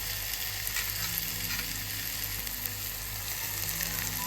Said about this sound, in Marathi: बारीक चिरलेला कांदा आता मस्तपैकी बारीक चिरलेला टॉमॅटो टाकला